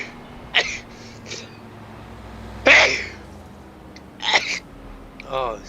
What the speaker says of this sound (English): Didn't mean to sneeze in your ear.